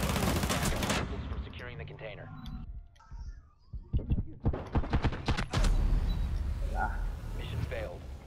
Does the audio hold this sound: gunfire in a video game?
yes